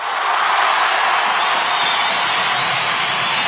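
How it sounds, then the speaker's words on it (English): An audience at a live show claps and cheers, a loud, dense wash of applause with whoops that holds steady for a few seconds. "Let's give him a clap."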